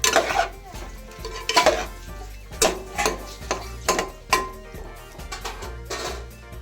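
Prawn kabsa biryani stirred in a pot, with a spoon scraping and clanking against the metal in repeated nearby strokes, a few louder knocks among softer scrapes.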